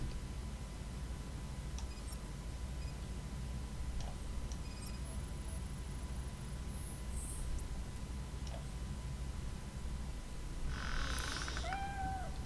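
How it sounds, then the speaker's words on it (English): In the video game Robocop: Rogue City, a cat lets out a short, faint meow near the end, rising briefly over a quiet, steady low background hum. "The cat is fine."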